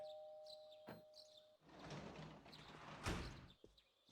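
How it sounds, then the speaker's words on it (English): A doorbell rings in the Persona 4 video game: short chimes at the start, then a burst of broadband door-like noise with a sharp hit near the end. "You hear the doorbell ringing."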